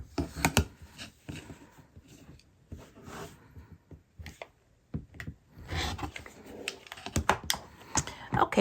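Scissors or a rotary cutter trim fabric seams on a Christmas stocking, giving a string of close, irregular snips and rustles of cloth with quiet pauses between bursts.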